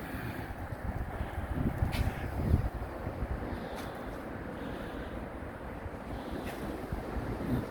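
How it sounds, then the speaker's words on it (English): Strong wind blowing across an allotment on a cold, rainy day, a low steady rumble of gusts buffeting the microphone with a few brief crackles, continuous and fairly quiet overall. "the last day of 2024, it's really windy"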